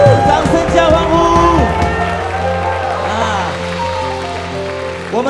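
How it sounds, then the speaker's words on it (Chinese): A church congregation at a Sunday service breaks into applause and cheering, a loud crowd with whoops and voices, largely masked by a speaking voice on a microphone, the clapping fading into talk. "掌声加欢呼"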